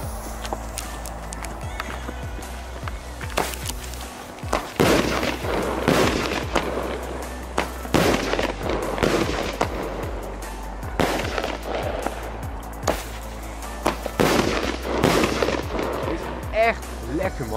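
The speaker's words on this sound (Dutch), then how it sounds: "Echt een ontzettend klein potje van maar 7 schoten. Maar jongens, die knallen zijn echt ontzettend goed." A Titanium Clouds seven-shot firework cake fires a series of loud, sharp bangs, each followed by crackling echo, spaced a second or two apart outdoors, with no talk over them.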